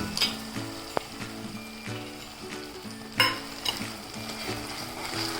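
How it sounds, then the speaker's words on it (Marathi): Goda masala and tomato sizzling in oil in a pan, with a steady frying hiss and repeated scraping stirs of a spoon against the pan, close and moderately loud with no talking. "गोडा मसाला चांगला हलवून घेते त्याला मसाला थोडा तेल सुटेपर्यंत भाजून घेऊया"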